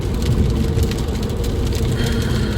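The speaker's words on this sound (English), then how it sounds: "Just started raining, so I don't think I'm going to take pictures outside." Rain falls in a dense, steady wash outdoors, a constant hiss with a low rumbling undertone, continuous and fairly loud with no voices.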